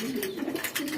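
A pigeon in a loft gives a short, soft coo close by, low and faint in a quiet space.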